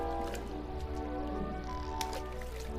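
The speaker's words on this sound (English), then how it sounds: "Oh, we're getting some bubbles in here." Underwater bubbling from the video game What Remains of Edith Finch, soft squishy gurgles and drips running steadily under a sustained tonal game music bed, fairly close and even in level throughout.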